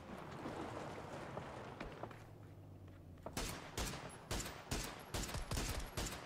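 Bursts of gunfire in PUBG, a battle royale shooter: a cluster of sharp, loud shots after about three seconds, firing in quick uneven volleys that repeat to the end over a low rumbling background.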